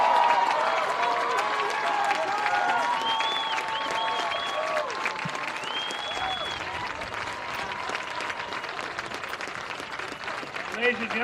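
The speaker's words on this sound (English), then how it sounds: "Ladies and gentlemen, one more round of applause for Bridgewater College Athletic Hall of Fame, class of 2025." Applause and crowd noise honoring Mike Clark, a Bridgewater College Athletic Hall of Fame inductee, during a football game, sustained clapping with a voice and whistle-like tones running over it.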